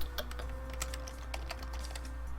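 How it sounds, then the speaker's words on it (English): Someone types on a computer keyboard with irregular, quick clicks of single keys, close and fairly quiet over a steady low hum, with no talking. "I'll just type it."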